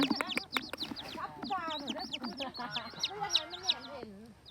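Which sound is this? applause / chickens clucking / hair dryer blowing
chickens clucking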